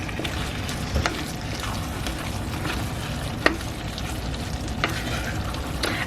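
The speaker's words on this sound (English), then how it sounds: "I've been kind of chopping it like this with my wooden spoon, just getting it into a really good texture for the sauce" Thick bolognese sauce simmering and sizzling in a pan, stirred and chopped with a wooden spoon, giving a constant close bubbling hiss with occasional soft scrapes and knocks.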